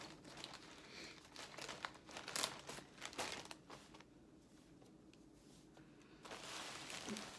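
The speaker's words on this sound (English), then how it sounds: "now I'm going to bring over my tissue paper" Tissue paper crinkles close by as it is handled, in bursts of dry rustling and crackling with brief louder crumples and quieter stretches in between.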